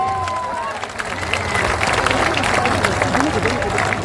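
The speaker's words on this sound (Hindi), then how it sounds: "जोरदार ताली बजाइए।" A large audience at a Jan Suraaj party gathering breaks into loud, sustained clapping and crowd noise that swells after a brief stretch of voice and continues steadily to the end.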